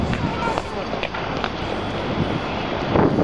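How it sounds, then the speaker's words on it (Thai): Cold wind gusts across a mountain parking lot on a trip in Korea, a steady, rough roar buffeting the microphone, with a voice talking over it. "โอ้ลมเย็น ลมเย็น"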